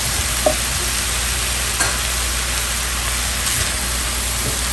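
Egg roll filling cooking in a pan with soy sauce and Shaoxing wine, a steady broad sizzle with a few faint stirring clicks, alone and without talk.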